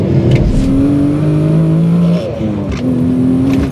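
A Nissan VQ V6 engine swapped into a BMW revs hard, its loud, brassy, trumpet-like tone rising and falling through repeated blips, close and continuous.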